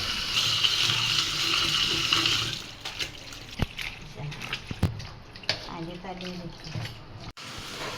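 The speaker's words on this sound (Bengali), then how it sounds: "মিষ্টি কুমড়ো শাকটা এখন ধুয়ে নিচ্ছে ভালো করে" Pumpkin leaves are washed in water in a home kitchen, with a loud, steady splash and rush of water for the first few seconds, then softer handling clatter and faint voices.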